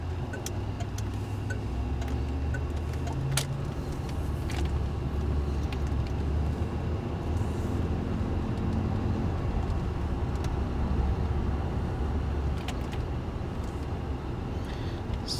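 Cadillac with an L62 engine running smoothly while driving: a low, steady engine and road hum throughout, with faint ticking clicks scattered across it and no voices.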